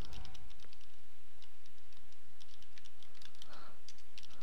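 Rapid keystrokes on a computer keyboard as an email address is entered, a steady run of close, crisp clicks with no talking.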